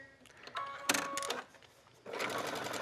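Sewing machine stitching a buttonhole into a knit waistband, running in short loud bursts with brief pauses between them and a steadier stretch of stitching at the end, close up with no talking.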